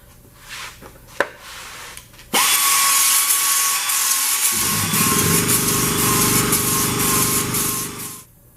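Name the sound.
sanding a Chevy C10 firewall with 80 grit abrasive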